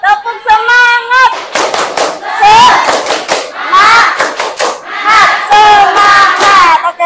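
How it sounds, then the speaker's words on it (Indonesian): A classroom group claps a fast rhythmic spirit cheer together, loud and close, with bursts of shouting voices between the clap patterns. "Tepuk semangat."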